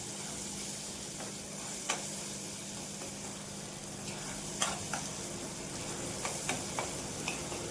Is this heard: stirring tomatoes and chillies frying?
yes